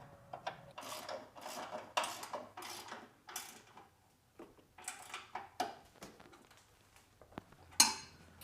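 A ratchet tightening a 12mm bolt through the frame on the intake piping of a 2022+ Subaru WRX, heard as close bursts of quick metallic clicking in short strokes separated by brief pauses.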